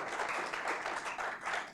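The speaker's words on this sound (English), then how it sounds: "Please give Dr. York a round of applause." Audience applause for a guest after a talk on energy security and war in the Middle East, a steady wash of clapping from a crowd, evenly sustained and fairly soft, with no voices over it.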